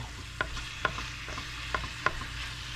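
Chicken cooks in a pan with a steady soft sizzle. A utensil scrapes and knocks against the pan a few times, and no one speaks.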